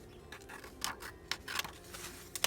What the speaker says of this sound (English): I can go ahead and cut it out with my new General Dollar scissors